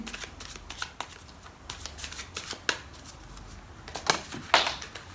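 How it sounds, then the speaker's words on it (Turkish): Tarot cards shuffled by hand in close, crisp riffling bursts with short pauses between, quiet and without talk. "Öncelikle akrepler için kartlarımı karıştırıyorum"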